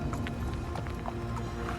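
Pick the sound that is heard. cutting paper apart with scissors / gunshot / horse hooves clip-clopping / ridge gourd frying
horse hooves clip-clopping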